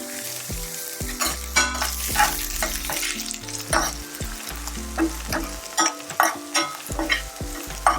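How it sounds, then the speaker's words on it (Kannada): Garlic frying in a pan for a brinjal palya, with a steady loud sizzle under repeated stirring and scraping strokes, and no talk. "ಗೋಲ್ಡನ್ ಬ್ರೌನ್ ಆಗೋ ತನಕ ಹುರ್ಕೊಳ್ಬೇಕು."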